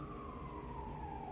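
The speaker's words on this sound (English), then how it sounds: "I forget if that's an ambulance." An ambulance siren wails at a distance, a single sustained tone slowly falling in pitch as it moves away, faint behind low room hum.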